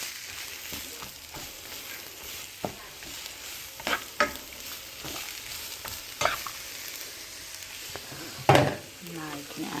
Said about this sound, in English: You stir fry it.